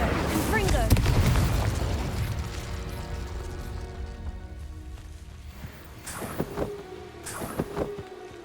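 A Confringo blasting spell exploding in Hogwarts Legacy, opening with a loud fiery boom that decays into a long crackling rumble, followed by a few sharper magical bursts, with voices in the mix.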